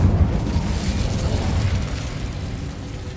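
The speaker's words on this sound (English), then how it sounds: "Incendio!" An Incendio fire spell blasts out in Hogwarts Legacy, a loud booming burst with a rumbling low-end roar that decays over about three seconds, heard on its own.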